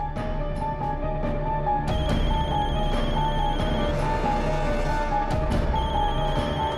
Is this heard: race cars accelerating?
no